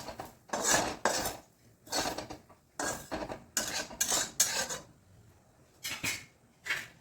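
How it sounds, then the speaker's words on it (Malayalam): Coconut, curry leaves and onion are roasted in a pan for sambar, stirred with a metal spoon that scrapes and clinks against the pan in repeated bursts of rhythmic scraping separated by short pauses, close and fairly quiet. "നമ്മുടെ സാമ്പാറിന് വറക്കാനുള്ള തേങ്ങയും കരുവേപ്പിൻ്റെ ഇലയും ഉള്ളിയും ഒന്ന് വറുത്തിട്ട് വരാം"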